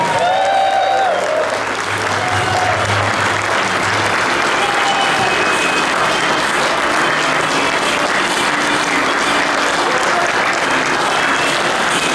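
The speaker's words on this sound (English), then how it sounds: "let's give a big, warm Derby round of applause" Steady, loud applause from a large audience at a city inauguration ceremony in Derby fills the whole stretch, dense clapping with a little crowd murmur underneath.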